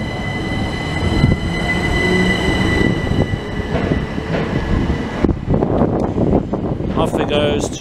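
A Southeastern high-speed train pulls out of Ashford International station, a loud sustained rumble with wheel noise and a steady high electric whine that fades as it departs, with voices briefly heard.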